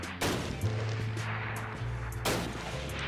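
A rifle in a Minecraft battle using the Flans mod fires two loud, sharp shots a couple of seconds apart. Each shot cuts off quickly into a low rumbling game background.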